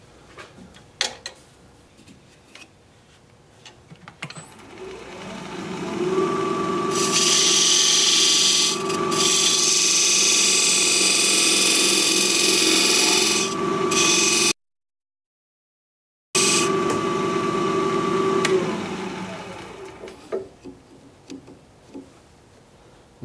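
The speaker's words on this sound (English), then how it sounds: "I'm going to use this recess tool to create the dovetail over here on the side of the recess." A wood lathe spins a ginkgo biloba salt cellar while a recess tool cuts a dovetail. A sustained whirring hum with a scraping cutting edge runs for about fifteen seconds, broken briefly by a gap, then winds down.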